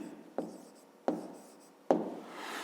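Three sharp taps of a pen or chalk striking a surface, each followed by a short scratchy stroke, as a math answer is written out during a fifth-grade lesson.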